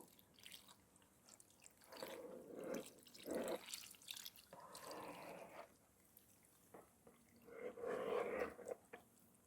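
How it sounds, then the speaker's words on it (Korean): Soy sauce pours and trickles in short splashing bursts, close up and fairly soft, with a few pauses between pours. "그리고 혼합해 둔 간장을 부어요."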